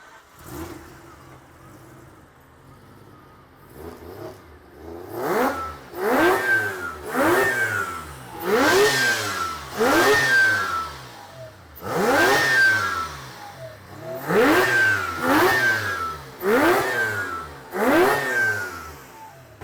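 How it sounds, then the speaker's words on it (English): A Mazda 20B naturally aspirated rotary engine in a car blips repeatedly from idle. The throttle rises and falls in a regular series of sharp, loud revs with brief pauses between them, and no talking is heard. "Okay, we're gonna start another 20B car here. So this is 20B NA."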